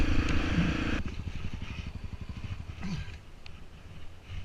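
A Honda XR650L motorcycle with CDI trouble revs hard in sand, its loud throbbing engine pulsing close at first, then dropping to a rougher, fainter chug with clattering.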